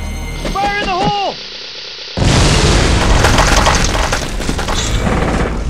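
An explosion in the video game Mortal Kombat: a shouted voice comes first, then a sudden loud boom that rolls into a sustained rumble and crackle filling the rest of the moment.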